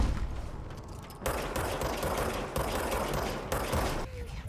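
Sustained gunfire bursts from the third-person shooter video game Control, a dense continuous fusillade of rapid shots with mechanical clatter, loud and steady with a brief pause near the start and a dip near the end.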